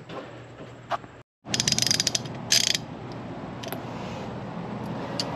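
A ratchet wrench clicks in quick bursts while disconnecting the negative battery terminal on an Alfa Romeo 4C, with rapid ratcheting ticks between brief pauses over a low background hum.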